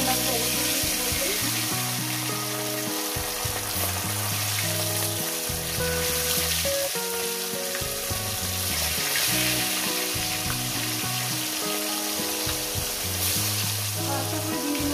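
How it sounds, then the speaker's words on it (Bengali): Parshe fish pieces frying in hot oil in a pan give off a steady, continuous sizzle throughout, with music playing underneath. "এক এক করে আমি মাছটা দিয়ে দেবো"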